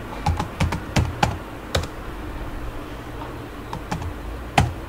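Computer keyboard keys tapped in uneven clusters while typing a note into Google Keep, sharp close clicks scattered across a few seconds with pauses between bursts and no talk.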